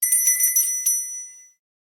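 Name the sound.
bell sound effect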